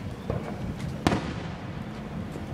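Independence Day fireworks burst in the distance, a few muffled booms with one sharper, louder crack standing out above a steady outdoor background hum.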